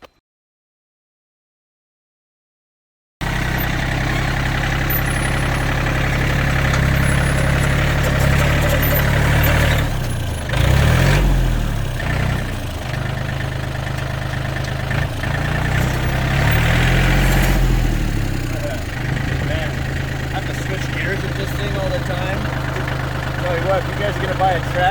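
A tractor engine runs and idles steadily after a few seconds of silence, with a deep low rumble and occasional surges in loudness.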